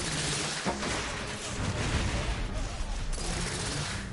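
Dense, continuous gunfire and explosions from the shooter game The Order: 1886, a loud, busy wash of overlapping shots with no clear gaps between them.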